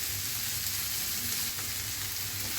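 Chopped onions frying in oil in a pan on a home stove, a steady, close sizzle with a low crackling bed running the whole time and no voices.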